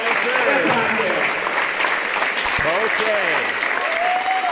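A dense crowd at a high school wrestling meet breaks into sustained loud applause and cheering, with whistles and voices rising over the steady clapping.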